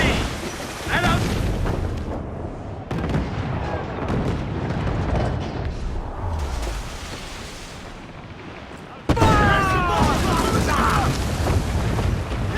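Ship cannons fire during a naval battle in Assassin's Creed IV Black Flag. Several deep booms and blasts come over chaotic battle noise and shouted commands, and a loud barrage hits near the end.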